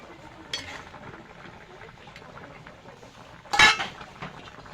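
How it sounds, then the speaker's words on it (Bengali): A metal pot lid clinks once softly, and then the lid or a spoon clatters more loudly against the pot of tomato and potato fish curry, with faint stirring between the two sounds. "ঢাকনা তুলে একটু নাড়িয়ে দেবো"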